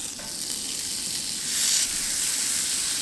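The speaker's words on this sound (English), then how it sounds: "I'm actually going to put the hash browns and our sausage patties on at the same time." Hash browns and sausage patties sizzle in an oiled pan over an outdoor cooking setup in the woods, with a steady, bright crackling hiss that swells briefly as the food shifts, and no talking.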